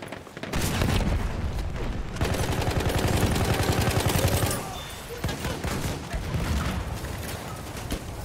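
Sustained bursts of rapid gunfire aimed at a Panzer tank in a war video game, loud and close with short pauses between volleys, while players talk over it.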